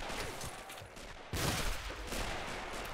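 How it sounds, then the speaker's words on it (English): Automatic fire from an MG 39 machine gun during a Men of War battle on the outskirts of Dunkirk, a dense, continuous rattle of gunfire with a louder surge partway through, crowding out everything else. "MG39 rips up a burst, but none have been caught in the fire."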